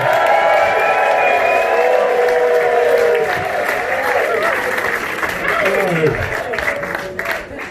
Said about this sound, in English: keep the clapping going until he gets to the microphone